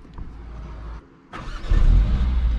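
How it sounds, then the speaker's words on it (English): A 2021 Mercedes GLA 45 S AMG 4MATIC+ starts up: a low idle rumble, a brief pause, then the engine fires with a loud bark that settles into a deep, strong idle close by. "We can start the car with the one pedal hold"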